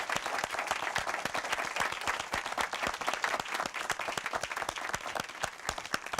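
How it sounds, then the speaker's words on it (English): A final round of applause from a concert audience for performers, with distinct individual claps in a brisk, steady patter at moderate distance, no voices over it. "let's give them all a final round of applause"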